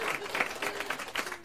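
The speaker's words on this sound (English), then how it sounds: "Please, a round of applause for Diana's..." Dense audience applause at a magic show, steady crowd clapping sustained through the whole moment at moderate volume with no voices over it.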